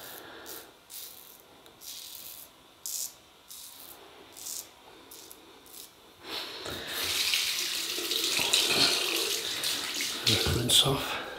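Water runs from a bathroom tap to rinse off shaving cream after a razor shave, starting as soft intermittent splashes and then swelling into a steady, close, full-bodied flow with brief surges.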